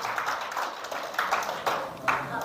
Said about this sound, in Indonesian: Yang percaya berikan tepuk tangan bagi Tuhan